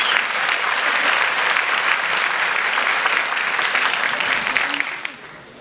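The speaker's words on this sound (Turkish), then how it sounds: "kuvvetli alkışlarınızla yılın en iyi erkek sanatçısı Kuzey Kıbrıs Türk Cumhuriyeti'nden Kadir Kar" Audience applause at an award ceremony for the year's best male artist, a dense, loud wall of clapping that holds steady throughout and then tapers off at the very end.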